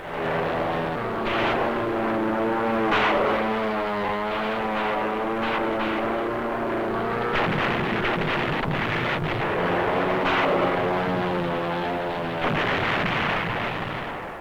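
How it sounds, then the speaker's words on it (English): Navy and Marine aircraft fire rockets in a dense, continuous roar of engines and blasts, with sharp bursts cutting through sustained wind-like rumble, loud and close throughout. "the Navy and Marine flyers laid down precise, deadly rocket fire"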